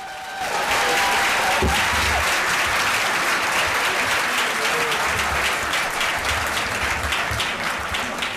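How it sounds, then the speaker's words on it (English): Sustained applause from a large audience at an annual school dinner, a dense, steady roar of clapping that swells in quickly and holds loud for several seconds. "Let's give them another round of applause"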